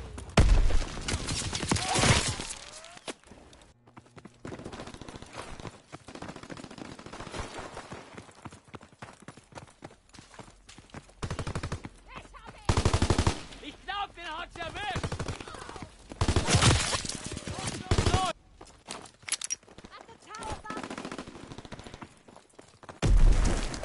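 Bursts of rapid strafing gunfire from fighter aircraft in a PS4 war game, coming in repeated loud volleys broken by quieter gaps, with a voice speaking now and then.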